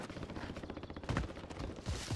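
Gunfire from the battle royale video game Warzone: several dense, cracking shots that are mostly close and loud, with sharper bursts near the middle and at the end, layered over constant game noise.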